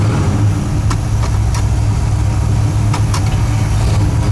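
A 500hp 1970 Chevelle SS V8 idles with a steady, loud low rumble and a few faint clicks on top, no talking.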